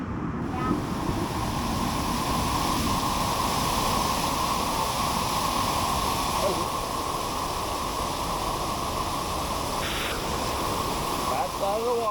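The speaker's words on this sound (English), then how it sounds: "Back side of the waterfall." Waterfall at Cummins Falls State Park heard from behind the falling water, a constant loud roaring rush of spray filling the whole clip.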